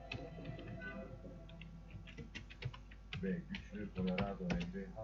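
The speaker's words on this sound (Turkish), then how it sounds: "Yazayım bakın." Rapid clicking of computer keys being typed, an uneven run of light taps close by, with faint voices talking in the background.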